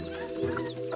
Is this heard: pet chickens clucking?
yes